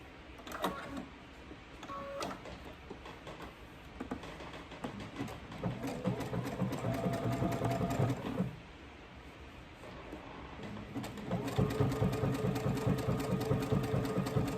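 A sewing machine stitches a seam on a K251 raglan shirt, running close by in steady whirring bursts with a brief pause in the middle before a longer, louder run.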